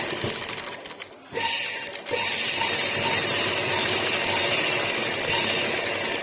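A sewing machine stitching the shoulder seam of a churidar, with a loud, steady, close mechanical whirr of rapid needle strokes after a brief pause and restart.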